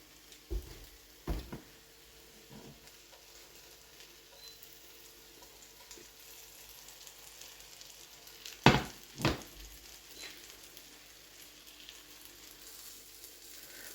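Breakfast food frying in oil in a pan, a quiet soft sizzle running steadily with a few louder clatters and bumps of handling partway through.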